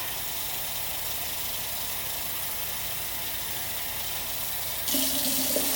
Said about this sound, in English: I fill water all the way to the top of the jar.